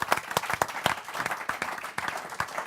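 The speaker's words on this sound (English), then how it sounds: "Please give David a fantastic round of applause." Audience at a business networking event applauding, a lively round of distinct claps at moderate volume, with individual hand strikes standing out in an irregular rhythm.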